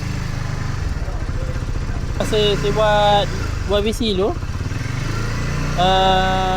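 A warmed-up Yamaha RS150 motorcycle engine idles steadily nearby after a major service, with a low, even chug while someone talks over it.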